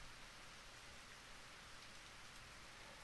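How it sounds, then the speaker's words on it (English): Heavy rain in the visual novel If My Heart Had Wings, a dense, even hiss of downpour continuing unbroken and quiet throughout, with no voices. "the sunshine that we had for the last 3 days changed quite unbelievably into really heavy rain"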